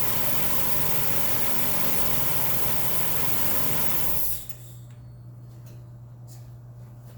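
A Mazda Miata NB2 engine on a rusEfi Frankenso controller runs at a steady, loud idle on a cold start, then abruptly stalls and falls to a quieter hum of background noise.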